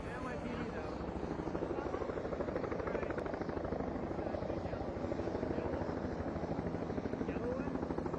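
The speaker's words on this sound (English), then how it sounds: "It's an NYPD helicopter." An NYPD police helicopter flies overhead in New York, its rotor chopping in a steady rapid pulse at moderate distance, with people talking nearby.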